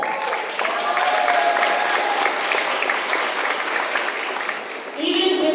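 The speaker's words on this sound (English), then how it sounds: "so we want to give them a round of applause" An audience of families at an 8th grade graduation ceremony gives sustained applause, broad and continuous, with a brief dip near the end before swelling again.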